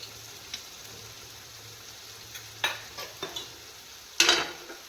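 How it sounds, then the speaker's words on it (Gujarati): Gram flour is stirred into a frying green onion curry, soft scraping strokes in a pan over a low steady sizzle, with a louder clatter near the end. "ચણાનો લોટ નાખ્યા બાદ તરત એને એકદમ હલાવ્યા રાખવાનું, જેથી ગાંઠા ના પડે."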